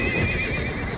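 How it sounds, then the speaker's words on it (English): A horse in a film scene whinnies loudly and steadily through the whole second, with hoof clip-clop faintly underneath and no voices. "The horse about to move."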